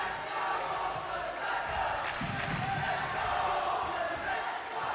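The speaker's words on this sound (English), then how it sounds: "Got the crowd into it." A crowd roars and cheers continuously at a professional NBL basketball game between Auckland Tuatara and Manawatu Jets. The dense arena noise swells slightly mid-way, and voices can be heard within it.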